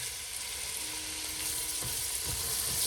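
Onions and garlic hitting melted butter in a soup pot, giving a steady, close sizzle and hiss with a couple of soft stirring scrapes near the end.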